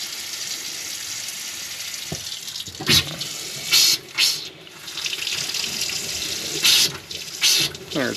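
An RV water faucet runs in a steady stream, then sputters and bursts in several loud, irregular gushes as trapped air spits through the line.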